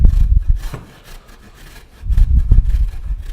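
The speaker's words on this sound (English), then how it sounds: "So just going to run it through the box grater and shred it." Sweet potato rubbed against a box grater makes rough, rasping strokes in two bursts separated by a short pause, loud and close.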